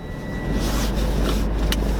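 A car being driven with people aboard, heard from inside the cabin as a steady low engine and road rumble that holds for two seconds with no talking.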